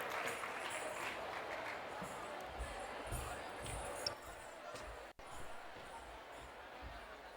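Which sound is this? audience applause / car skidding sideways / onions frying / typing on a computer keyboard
audience applause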